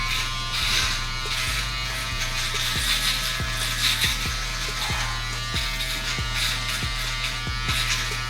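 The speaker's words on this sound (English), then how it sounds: "make sure you get all those stubbles with the full shaver going different directions on the neck." An electric shaver buzzes steadily and loudly close up as a barber shaves stubble on a client's neck during a fade and beard trim, with rhythmic ticks as the blade moves across the skin.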